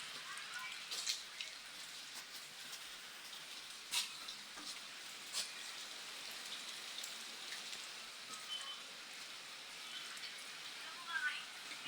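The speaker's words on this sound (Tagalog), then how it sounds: "Ulan na naman." Steady rain pattering on a surface, a continuous soft hiss with scattered louder drops, no voices.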